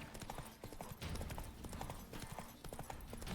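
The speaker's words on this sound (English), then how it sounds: "You're not my horse, but I guess I'll ride you." Horse hooves clip-clop in a steady trotting rhythm in the video game Witcher 3, clear and continuous over a low background bed of game ambience.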